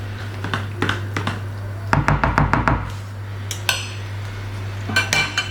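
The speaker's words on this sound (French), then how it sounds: "Je le coupe en tout petits morceaux avant de le rajouter" Roquefort cheese cut into tiny pieces with a knife, a run of sharp, close clicks and taps against a plate or board, clustered in quick bursts with short pauses between them.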